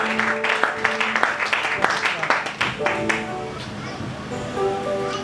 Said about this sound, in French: On acclame encore le Seigneur plus fort.